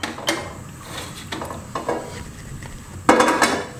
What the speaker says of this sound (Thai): ตอนนี้เราพร้อมแล้วนะครับเพื่อนๆก็เริ่มจาก น้ำมันนะครับ เราจะทำการผัดเส้นกันก่อน